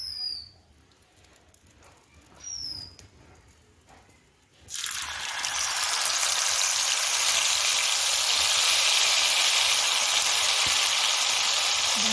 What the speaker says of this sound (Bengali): তেল দিয়ে এবার বড়াগুলো আমি এক এক করে দিয়ে আস্তে আস্তে করে ভেজে নেব।